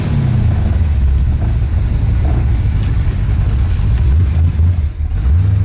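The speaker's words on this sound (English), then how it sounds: "And this car sounds just absolutely nasty." A 1966 Ford Mustang's engine runs loud and close, a heavy low rumble with slight rises in revs and no voices.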